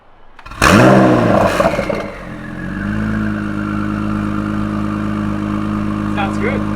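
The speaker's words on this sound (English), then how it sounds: "So a little exhaust test." A Honda with Quicksilver downpipes and Quicksilver catback exhaust is revved sharply: a loud, rising blip that fades into a steady, deep idle rumble, close to the microphone and heard alone.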